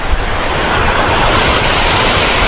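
Water from Wilson Dam near Umbrella Falls in Bhandardara pours and rushes in a loud, continuous roar, with wind buffeting the microphone and no voices.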